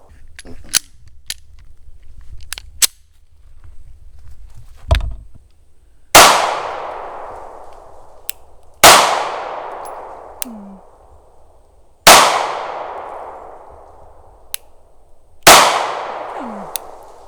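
A coyote tan SIG P365 NRA Edition pistol fires four loud, sharp shots a few seconds apart. Each shot is followed by a ringing clang from a steel target, with lighter clicks and taps between shots.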